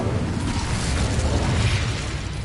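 The Incendio fire spell is cast in Hogwarts Legacy, a loud burst of roaring, crackling flame lasting a couple of seconds without talk.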